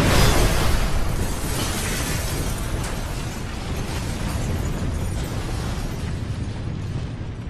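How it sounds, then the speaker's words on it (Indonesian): A hospital in Raccoon City explodes in the video game Resident Evil Operation Raccoon City. A loud, roaring blast is followed by a sustained rumble of debris and fire that slowly fades, with no talking. "Nikolai juga meledakkan rumah sakit di Raccoon City yang di dalamnya juga ada Delta Team"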